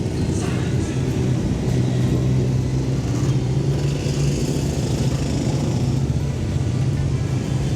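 Motorcycles on a Stoke-on-Trent bikers' charity toy run passing by, a continuous loud rumble of many engines close at hand, steady and unbroken throughout.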